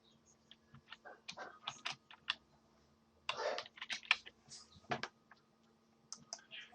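Close computer keyboard typing as an email address is entered, with irregular bursts of soft key clicks separated by short pauses and a small cluster of quicker taps near the end.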